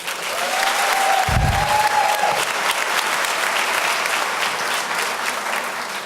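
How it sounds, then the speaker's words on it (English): Applause at a GED graduation ceremony in 2014, a broad steady wash of clapping from a crowd of graduates and guests that holds through the whole stretch, with a brief low thump early on. "Please give yourself a round of applause"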